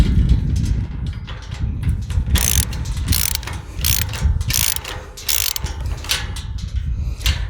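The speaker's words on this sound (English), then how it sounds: "let's get our wrench or our ratchet with our 15mm socket. Start tightening these bad boys up." A ratchet wrench with a 15mm socket tightens bolts on a metal farm gate slide bolt latch, giving close, crisp clicking strokes in quick repeated bursts, each run of clicks broken by short pauses, with no talking.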